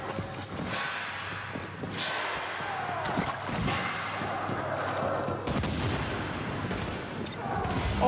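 Dense, continuous gunfire from the video game Rogue Company, a close and loud barrage of overlapping shots and impacts that runs the whole way through with little letup, a voice briefly mixed in.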